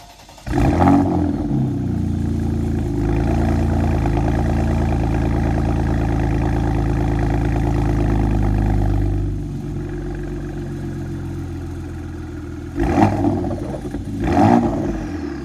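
A Porsche Macan engine idles with a deep, loud exhaust rumble through a new exhaust with muffler deleted, settles lower, then gets blipped in two quick revs near the end.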